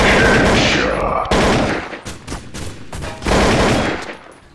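Counter-Strike: Source gunfire on the Dust2 map, a loud close volley of rapid shots that breaks into a few separate cracks, then a second heavy burst that fades at the end, with no talking.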